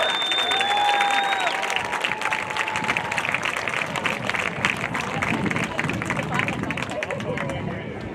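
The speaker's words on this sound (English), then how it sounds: "how about one more big round of applause for the 2025 homecoming court?" A crowd at a high school homecoming football game claps and cheers in sustained applause, dense and continuous, with whistles and a loud cheering voice near the start.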